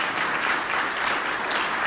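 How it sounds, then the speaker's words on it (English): Audience applause for sponsors at a startup pitch competition, a dense steady wash of clapping from a full room, sustained evenly and loud throughout with no voices. "A round of applause for them."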